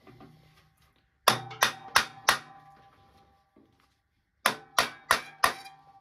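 Metallic hammer taps on a steel clutch pressing for a rear-wheel-drive Ford ring out in two sets of four evenly spaced strikes, separated by a short quiet pause.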